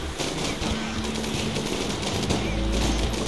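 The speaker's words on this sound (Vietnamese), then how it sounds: "Đấu súng, đấu súng nè má." Bursts of automatic gunfire and scattered shots rattle on continuously during a firefight in the video game Rimworld, dense and loud, with a voice faintly present underneath.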